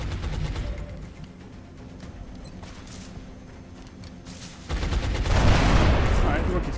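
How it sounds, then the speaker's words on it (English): Suppressing gunfire in XCOM: Enemy Within (Long War) opens as a loud sustained burst of automatic shots in the final seconds, following quieter game ambience with faint clicks and brief distant shots. "Suppressing fire on."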